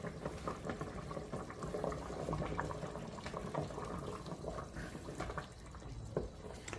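Flour slurry is poured into simmering broth in an Instant Pot for gravy, giving soft, quiet bubbling and liquid splashing with faint irregular clinks, fairly low in level with no talking.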